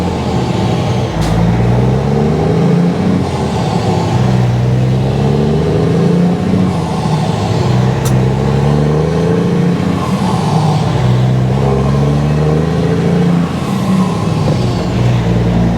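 A work truck with a 10-speed transmission runs under load, and its engine note rises and falls in a repeating pattern as the revs come up between downshifts. The sound is steady and fairly loud inside the cab, with faint hisses now and then.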